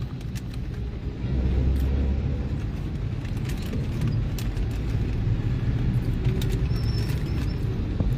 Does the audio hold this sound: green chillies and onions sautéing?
no